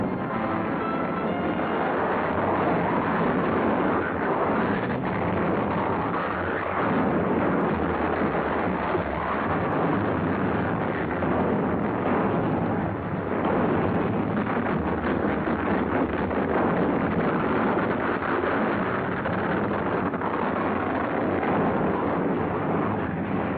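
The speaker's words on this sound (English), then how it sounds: "Wind reaches the nearest ship, the Yancey." Strong wind roars steadily around Antarctic expedition ships and a Coast Guard icebreaker, a dense, continuous gusting rush that stays loud and unbroken throughout with no talk.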